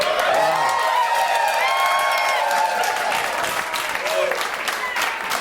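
A studio audience claps and cheers during an interview with the Brooklyn borough president, steady and fairly loud throughout, with voices talking and calling out over the clapping.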